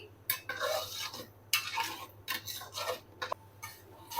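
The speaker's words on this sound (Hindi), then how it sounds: "मैं इन टमाटरों को मसालों के साथ अच्छी तरह से भून लूंगी" Tomatoes and spices sizzling and being stirred in a pan, with repeated scraping strokes of a spatula at an uneven rhythm, close by.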